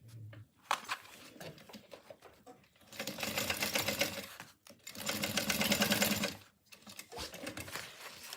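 A sewing machine stitches darts in the side panel of a bag lining, in two sustained bursts of rapid mechanical whirring, close and clear, with quiet handling noises and short pauses between runs.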